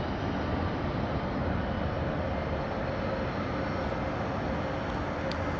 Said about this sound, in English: Emirates rotating now, just above the top of London Heathrow Airport